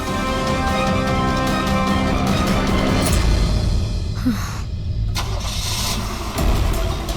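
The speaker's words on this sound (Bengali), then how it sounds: "স্যার মনে হচ্ছে খুনি গাড়ি নিয়ে পালিয়ে গেল" A car engine cranks and fires up, then idles and revs with a steady mid-pitched rumble, close and loud, with a brief dip and a few changes in tone as it pulls away.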